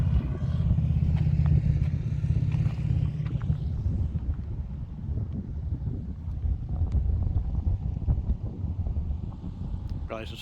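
Wind buffeting a microphone on Notch Trail in Badlands National Park, a steady loud rumbling roar that persists throughout with faint clatter underneath.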